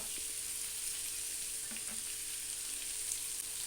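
Goat tripe curry fries with masala in a pan, keeping up a soft, continuous sizzle with a few faint scrapes of stirring. It is heard up close and without speech.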